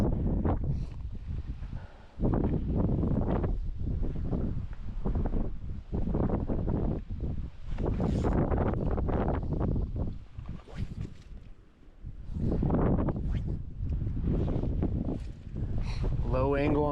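Wind gusts across a riverbank during fly fishing, buffeting the microphone in loud, rough rumbling bursts that rise and fall throughout, with brief lulls between.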